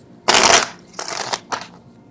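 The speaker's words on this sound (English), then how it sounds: "I don't know why people like to see the card shuffle live, I guess." Tarot cards shuffled by hand in three bursts, a long riffle followed by two shorter ones, close and crisp with no talking.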